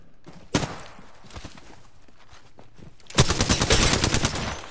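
Video game battle gunfire: a few separate shots, then a sustained loud burst of rapid automatic fire close by, with no talking over it.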